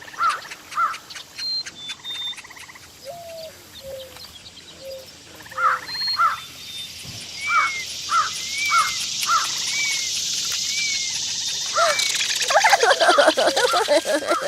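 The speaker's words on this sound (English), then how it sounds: "having the sounds of the forest get super loud" Animated forest ambience in a cartoon scene: layered chirping birds and insects with repeated crow caws, the woodland chorus swelling louder toward the end, no talking.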